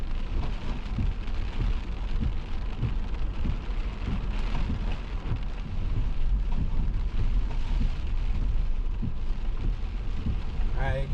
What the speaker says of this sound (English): The rain really started coming down